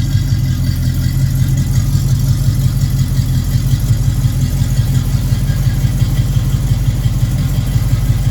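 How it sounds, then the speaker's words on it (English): A 1957 GMC V8 truck engine, 347/394 cubic inch with hydraulic flat tappets, idles steadily around 600 RPM with a deep, even rumble and a slight rhythmic lope, close by and continuous with no talking. "The tach's not working right now, but it's idling probably about 600 RPM."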